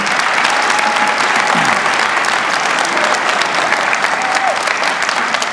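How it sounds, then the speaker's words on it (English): Sustained crowd applause for a high school choir at an outdoor ribbon-cutting ceremony for an aquatic and recreation center, steady and full throughout. "a big round of applause for the Marana High School Choir."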